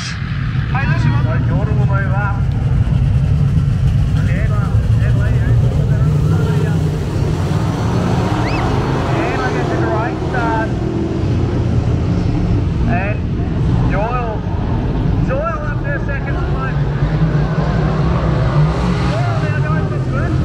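Sprint cars race on a dirt speedway, a continuous loud roar of engines filling the whole stretch while people talk over it nearby.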